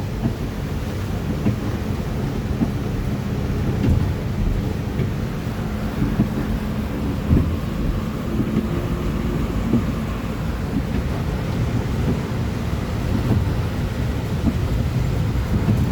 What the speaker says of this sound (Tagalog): Tingnan mo ang ulan, sobrang lakas pati hangin.